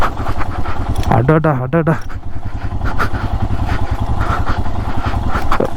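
A Royal Enfield Himalayan 411cc motorcycle rumbles steadily on a rough off-road track, its engine droning close and continuous beneath excited speech and a brief exclamation.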